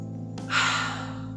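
A single close, breathy sniff as a person smells the pages of a book. The inhale rises after a brief pause and then fades over a steady low electrical hum.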